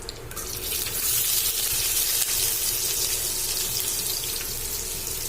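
Chopped onion dropped into hot oil with crackled cumin seeds, frying in a home kitchen pan: a steady, close, loud hiss and sizzle that holds evenly throughout with no voices.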